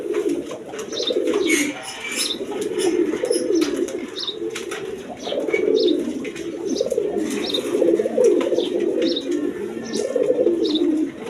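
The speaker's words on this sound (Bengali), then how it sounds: "এইখানে এক পেয়ার রেশার বাচ্চা কবুতর আছে দেখেন" A pair of young racing pigeons coo repeatedly in soft, rolling throaty phrases, close and continuous, with a few faint chirps in the background and no talking.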